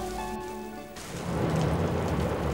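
Heavy rain pours in a steady, dense hiss that swells louder after a short stretch of faint tonal music.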